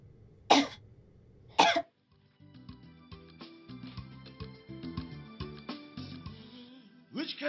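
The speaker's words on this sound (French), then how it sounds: "Pourquoi tu tousses?" A woman coughs twice, sharp and close, followed by soft background music with a melodic line that runs to the end.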